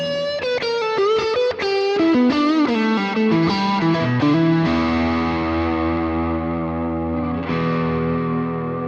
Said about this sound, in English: it brings in like a really nice sort of ambient drive tone